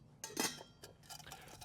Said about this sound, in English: Okay, so 2 stainless steel plates, a pot, a lid for the pot, and a pan.